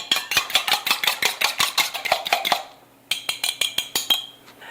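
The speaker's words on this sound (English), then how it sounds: "and beat that together" A fork or whisk beats a raw egg and water together in a bowl for egg wash, a fast run of sharp clinking strokes that pauses briefly, then resumes.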